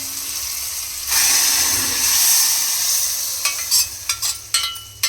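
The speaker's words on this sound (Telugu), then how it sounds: "ఇప్పుడు తాలింపు పప్పులో వేస్తున్నాం." Hot tempering with curry leaves and turmeric poured into tomato dal in AMC cookware, a sudden loud hiss that swells and fades, followed by a series of crisp stirring knocks and scrapes.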